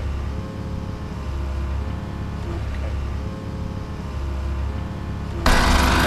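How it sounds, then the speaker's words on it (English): A machine drives interlocking plastic sheet piling into the ground at a fen peat bog, a continuous rumbling, rattling engine drone heard at a distance in the background, growing louder and harsher near the end. "the noise you can hear in the background is a machine putting a plastic interlocking sheet into the ground"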